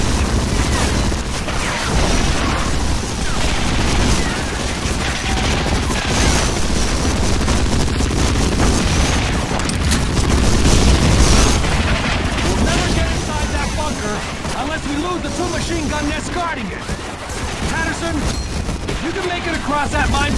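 Dense explosions and gunfire rage through a D-Day beach assault in a video game, a continuous loud barrage of booms and rapid shots with voices shouting over the battle.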